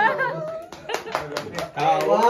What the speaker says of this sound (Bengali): হাততালি হাততালি হাততালি